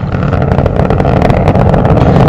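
Space Shuttle Atlantis's three liquid-fuel main engines during launch on its final mission, a loud, continuous, dense roar that holds steady without a break.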